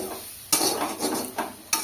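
Spices and vegetables for a potato and yardlong bean curry with radhuni tempering fry in a pan, a close sizzle with a few loud scraping stirs against the metal, brief and without talk.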